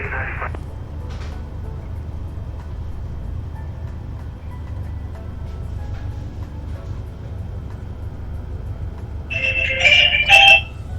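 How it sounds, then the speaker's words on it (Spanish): A telephone ringtone chimes in a flight-simulator cockpit, coming in as a short burst of bright electronic tones near the end over a steady low engine drone. "Sí, hay por ahí un teléfono."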